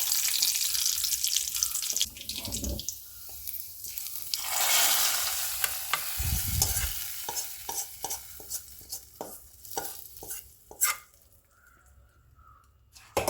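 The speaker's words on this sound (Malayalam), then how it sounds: "ഉള്ളി മൂത്ത് വന്നിട്ടുണ്ട് കേട്ടോ" Onions fry in coconut oil for a kilimeen fish curry, a steady close sizzle with spoon stirring and scraping, broken by a brief burst of running water and a few sharp clinks near the end.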